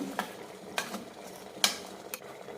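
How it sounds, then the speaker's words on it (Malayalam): A utensil scrapes and stirs through rice flour steaming in a pan, a few separate strokes with a soft sizzling background. "ഇടയ്ക്കൊന്ന് ഇളക്കി കൊടുക്കാം"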